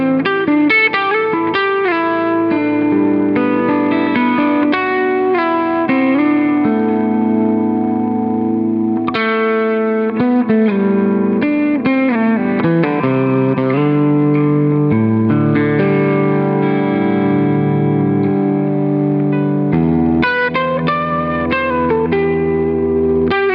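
Electric guitar through a ZVEX Instant Lo-Fi Junky pedal playing chords and melodic lines with a lo-fi, effects-heavy tone washed in deep, cavernous HX Stomp cave reverb, steady and loud throughout.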